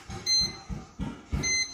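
Short electronic beeps from a bread machine finishing its cycle repeat several times in a steady pattern, with a low rumbling hum underneath.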